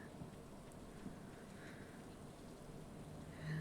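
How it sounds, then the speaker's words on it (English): Steady rain falls in the farming video game Stardew Valley Expanded, a soft, even hiss of rainfall that stays faint and constant throughout with no talking. "Oh, is it still raining?"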